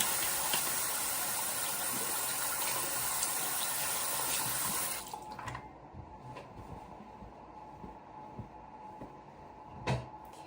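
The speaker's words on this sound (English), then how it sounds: "I'm gonna wash my hands though." Running water at a bathroom sink while hands are washed, a steady loud hiss for about five seconds, then cut off, leaving quiet handling sounds and a small knock.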